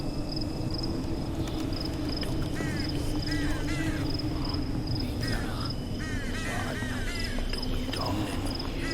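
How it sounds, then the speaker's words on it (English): Crows caw repeatedly in a garden setting within the horror video game Them and Us, hoarse rhythmic calls recurring over a steady insect-like drone and a constant high tone. "So, and I'm definitely hearing crows."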